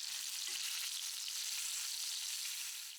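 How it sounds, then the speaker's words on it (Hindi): Marinated chicken sizzles and fries steadily in hot mustard oil in a pan, a loud, continuous crackling hiss that runs through the whole stretch with no voices. "ऑयल यहाँ गर्म हो चुका है तो अब हम मैरिनेट किया हुआ चिकन इसमें डाल देते हैं"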